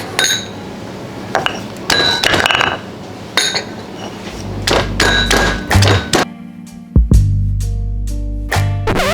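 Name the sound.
crushing chili with a pestle and mortar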